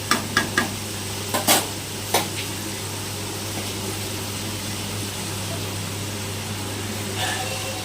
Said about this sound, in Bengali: এমন করে ভেজে দিতে হবে আলু